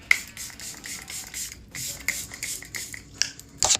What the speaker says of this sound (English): Second setting spray.